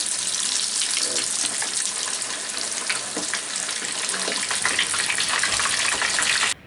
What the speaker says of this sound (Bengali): এমন করে বাকিগুলাও ভেজে নিবে।